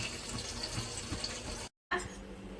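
Water poured from a vessel into a cooking pot over tempered cumin while making traditional horse gram shingole, a quiet steady splashing trickle, broken by a brief cut near the end.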